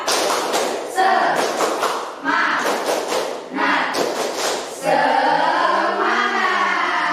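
A classroom group claps in loud rhythmic bursts, several quick claps in each burst separated by short pauses, while voices chant along.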